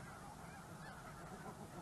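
A bad-tempered goose on an Arctic island honks in a steady stream of harsh calls, with the wild ambience of a wildlife documentary around it.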